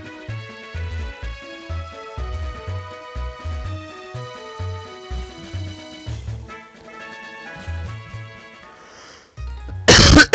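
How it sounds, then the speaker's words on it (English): A single short, sharp cough bursts out at the very end over bouncy Pokémon HeartGold game music. "Coughing, coughing, coughing."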